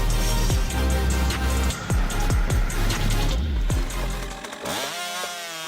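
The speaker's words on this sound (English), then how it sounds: "Precision with the 99th chainsaw." A loud chainsaw roars and bogs down repeatedly as it bites into wood, engine pitch dipping with each cut, then revs out alone.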